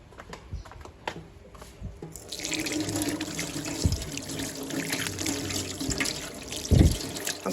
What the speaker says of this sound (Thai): ล้างมือก่อนนะครับ